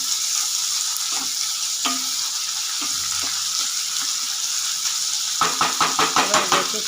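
Shrimp frying in a pan with other ingredients, a constant hissing sizzle that gives way near the end to a quick run of rhythmic scraping stir strokes, close and with no talk.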